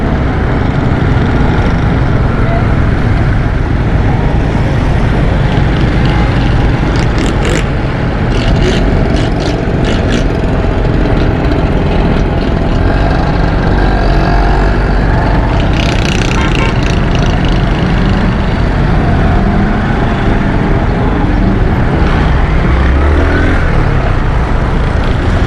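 Road traffic on a busy city route near a U-turn, heard from a moving motorcycle as a loud, continuous rushing engine and wind roar with occasional passing vehicles and faint voices underneath.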